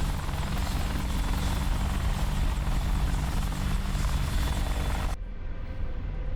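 A helicopter in a flight simulator game lifts off vertically, its rotor and engine a loud, steady, dense drone that holds evenly until it drops away abruptly near the end, with no talking.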